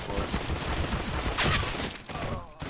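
M4 rifle fire in the shooter game Phantom: rapid, closely spaced shots in a loud continuous burst that thins out near the end.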